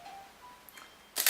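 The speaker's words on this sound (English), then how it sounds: "You have to cut the shutter, Eric." A Nikon camera fitted with a Nikkor 55mm f3.5 macro lens fires its shutter once, a crisp close mechanical snap that lands after a moment of near-silence.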